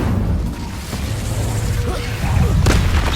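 An Incendio fire spell cast in Hogwarts Legacy, a rumbling, crackling blast with a bright burst near the end, over continuous game noise and a short spoken word.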